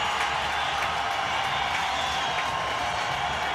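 Cricket crowd applauding Brian Lara's record 400 runs, a steady, dense wash of distant clapping and cheering from a large stadium audience that holds constant throughout.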